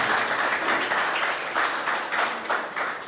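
Audience applause at a children's eloquence TV competition, a steady, full wash of clapping that swells in waves and holds for the whole stretch with no talk over it.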